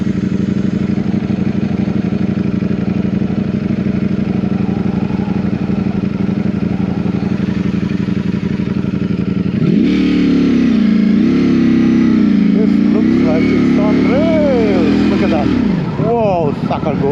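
A 2024 Ducati Streetfighter V4 motorcycle roars loudly and steadily at speed, then its engine note climbs and falls through several revving gear changes, with a rider's voice intermittently over the wind and engine.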